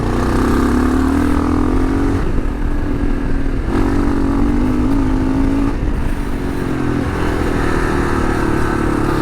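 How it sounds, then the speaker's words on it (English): Kawasaki KLR650 single-cylinder motorcycle held at full throttle on dirt roads, a loud, steady engine drone from close by with wind rush and small dips as the pitch shifts over the ride. "One good thing about the KLR is you can just hold it flat."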